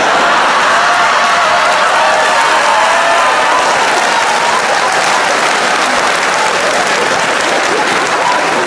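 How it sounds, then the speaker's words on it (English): Comedy club audience claps and cheers at a stand-up show, a dense steady wash of applause with whoops running loud throughout, no pause. "even though you're clapping and you're cheering"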